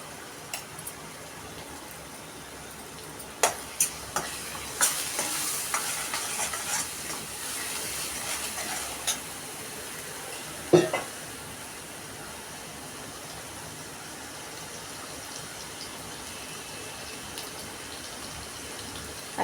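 Ginger garlic paste frying in a pan for a dried-fish egg curry gives a soft, low sizzle, with brief stirring clicks and scrapes near the start and a sharper clatter midway before settling back to a faint hiss.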